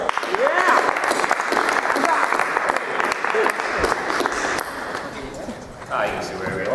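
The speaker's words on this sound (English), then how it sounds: "So everybody, a round of applause to Hari." Audience applause at a cricket show event, loud and continuous, with voices talking and cheering over it and a brief dip before the sound picks up again.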